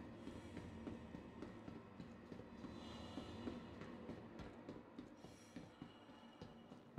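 A train ride in Star Citizen heading toward the New Babbage spaceport, a continuous rolling rumble with rhythmic clacks and soft squeals from the wheels, moderately loud and steady throughout.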